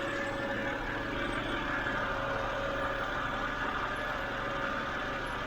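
A 2007 BMW 328i E90 sits idling steadily during electric water pump and thermostat work, its low continuous engine drone holding even and close for the whole stretch with no voices.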